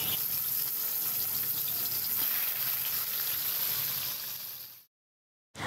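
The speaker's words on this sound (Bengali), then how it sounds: "তো এবারে আমি মাছগুলো ভেজে নেব।" River pangas fish fry in hot oil in a wok, giving a steady, loud sizzling hiss that runs unbroken for several seconds before cutting to silence.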